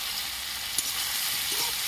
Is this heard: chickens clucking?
no